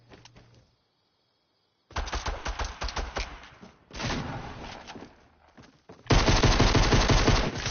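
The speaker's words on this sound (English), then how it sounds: "Shotgun to the face." Shotgun fire in a console battle-royale building game, heard as three loud bursts of close, rapid gunfire separated by short quiet gaps, the final burst the loudest, with no talking over it.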